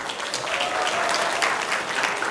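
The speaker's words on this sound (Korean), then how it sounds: "살아있네요, 박수 소리가" A hall audience at a presentation contest claps loudly and continuously for a speaker taking the stage, a thick even patter of many hands with no voices over it.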